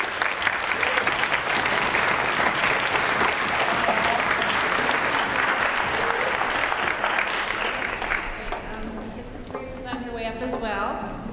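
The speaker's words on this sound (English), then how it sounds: "we can clap for Mrs. Sniper" A school orchestra concert audience gives a teacher, Mrs. Sniper, a long round of steady, dense applause that fades near the end as a voice starts talking over the last claps.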